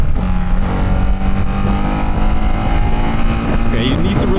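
Ducati Hypermotard 698 motorcycle engine droning loudly while riding, a steady close roar with wind rush and a slight rise in pitch near the end, with someone talking over it.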